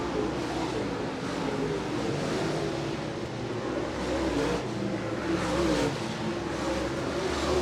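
A late model race car tears around the high side at Merritt Speedway, its engine a steady, rumbling roar that swells slightly as it passes, with constant track noise and no clear voices.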